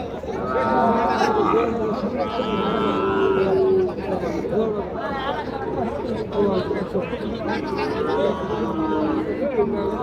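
Cattle, including Sahiwal calves and bulls, low and moo at a cattle market among a busy crowd, with many people talking and calling over one another throughout.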